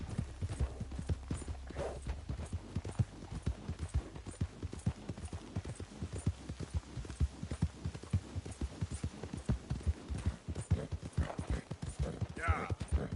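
Horse hooves gallop in Red Dead Redemption 2, a steady rapid clip-clop rhythm pounding close and loud throughout, with a low hum beneath and brief voices over the hoofbeats.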